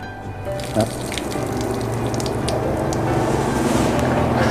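Water poured out of the leaf rosette of a bromeliad, a steady splashing and trickling wash that runs the whole time, close and fairly loud, with a brief knock near the start and outdoor wind noise.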